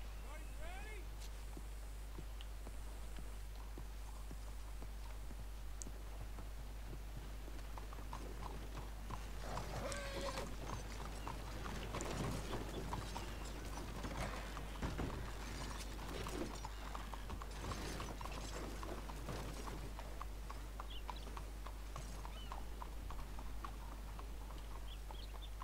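Hooves clip-clop in a Wild West role-play video game, a busy irregular run of clops over a steady low hum while someone talks.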